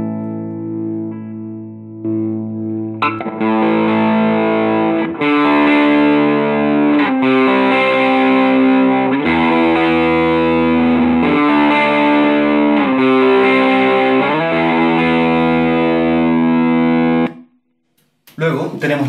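A guitar runs through the distortion channel of a Fender Hot Rod DeVille amp, playing loud, sustained overdriven chords and notes continuously for about seventeen seconds before cutting off, with a short burst at the end.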